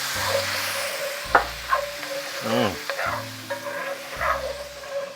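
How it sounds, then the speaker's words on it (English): Shallots deglazed with bourbon in a pan while making peppercorn steak, a steady frying sizzle broken by a few clattering stirs and scrapes of the pan, no talking. "Then we want to take some bourbon and deglaze."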